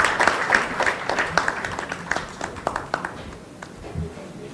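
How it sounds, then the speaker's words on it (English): An audience applauds at a felicitation function honouring Prof. G.D. Yadav: steady, fairly close clapping from a crowd that slowly thins and fades over several seconds, with no talk over it. "Please give a huge round of applause for Dr. Mrs. Vasanti Yadav and her contribution to Sir's life."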